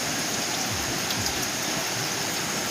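Continuous rushing, splashing water as it drains away, steady and fairly loud throughout with no pauses.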